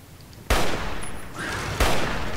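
Weapon fire in Fallout: New Vegas, with two loud sharp shots spaced about a second apart, each followed by a ringing tail, close and unaccompanied by talk.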